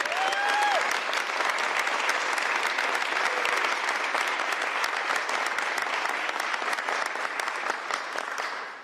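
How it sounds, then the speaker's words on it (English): A large audience breaks into steady, dense applause at a bill-signing ceremony on public safety funding, loud and sustained with no talk over it, fading slightly at the very end. "Give her a round of applause."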